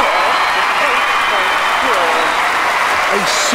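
A crowd applauds loudly and continuously in an Olympic 25m rapid pistol shooting game, a dense steady clapping roar while a commentator talks over it.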